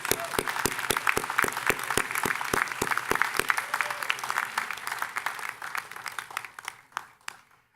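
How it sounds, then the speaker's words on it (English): Commencement crowd applauding at the IIT Stuart School of Business 2017 graduation: a run of sharp, evenly spaced claps up front, swelling into a broad round of clapping that thins into scattered claps and fades out. "Let's have a round of applause."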